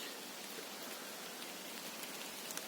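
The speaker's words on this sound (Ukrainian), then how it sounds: "Ну, Зараз нема сонця, дощ." Steady rain falls outdoors, an even, soft hiss of drops on surfaces with faint scattered patters, continuous and fairly quiet throughout.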